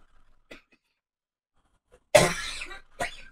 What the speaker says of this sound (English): Not allowed to cough.